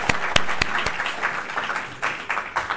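At a conference on bioplastics, a room claps to welcome the speakers, with a few sharp, close claps standing out above a softer spread of applause that thins and picks up again.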